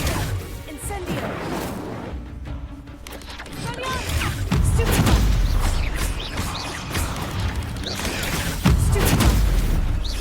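Incendio, the fire spell in the video game Hogwarts Legacy, bursts out in repeated whooshing, booming blasts over busy game sounds, with a voice casting between the hits.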